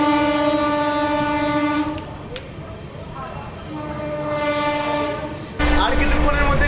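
An Amrit Bharat Express passenger train gathers speed after clearing a signal, its horn sounding in long steady blasts with a break in the middle, over rolling rail noise that grows louder toward the end.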